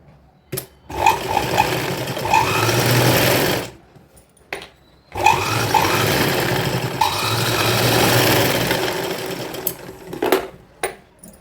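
A sewing machine top-stitches green fabric on a side dori pattern kurti, running in two loud, close bursts separated by short stops, with faint squeaks of fabric handling between.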